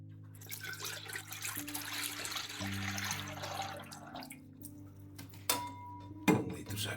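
Liquid poured from a one-litre container into an ultrasonic vinyl record cleaning tank, a steady close splashing and trickling stream lasting several seconds, ending with a couple of sharper knocks and clinks from the container.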